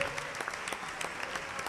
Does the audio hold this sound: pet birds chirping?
no